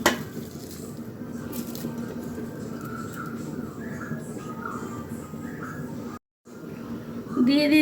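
Spices and ingredients, including bay leaf, coriander powder and turmeric, being mixed by hand in a bowl for tikka, with steady close clinking and squishing throughout and a brief silent gap near the end.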